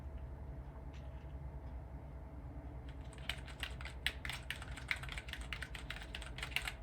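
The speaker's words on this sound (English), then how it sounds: "I'm typing gibberish with one hand while I hold my iPod" Fast, uneven one-handed key clatter of gibberish on a computer keyboard, beside running Power Mac G4 machines whose steady fan hum fills the background; the rapid clicks start about halfway through and continue to the end.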